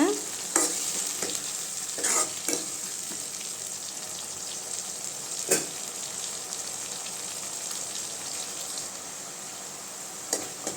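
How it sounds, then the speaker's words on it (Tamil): Tomatoes sauté in a pan with a continuous sizzle, broken by a few sharp spatula knocks and scrapes spaced irregularly, heard up close with no talking. "தக்காளி நல்லா பச்சை வாசனை போகிற அளவுக்கு வதங்கட்டுங்க"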